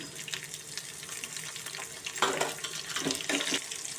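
Tap water runs and splashes over drumstick leaves being rinsed in a kitchen sink, a close, continuous gush with irregular bursts of splashing as the leaves are moved.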